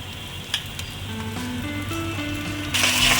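Ginger, garlic and green chilli paste sizzles with onions in a pan, a steady crackling fry with occasional stirring scrapes and a rise in sizzle near the end.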